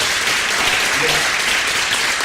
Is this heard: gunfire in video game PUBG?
no